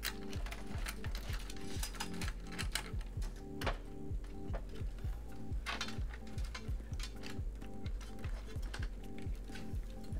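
Steady keyboard typing with rapid clicks over a persistent background hum and rhythmic low thumping, no voices.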